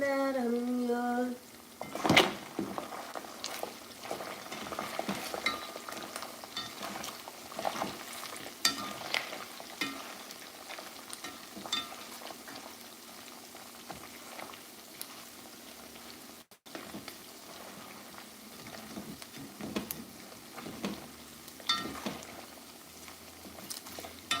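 Haitian griot, chunks of pork frying in a pan while being stirred, giving a steady sizzle with scraping and clattering stir strokes throughout, close and moderately loud.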